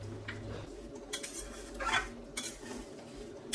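A spoon scrapes and clinks against a pan while milk is stirred into pointed gourd curry, a few soft intermittent metallic taps and swishes over a quiet background.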